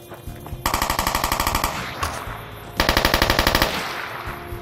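Two rapid bursts of automatic gunfire in the video game Fallout: New Vegas, each a rattling string of sharp shots, separated by a brief pause; loud and close.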